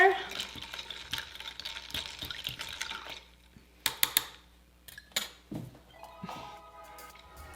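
Quick stir of a keto virgin margarita in a glass, with light spoon clinks and liquid swirling, then a few sharp ice or glass taps and soft drips, fairly close and quiet.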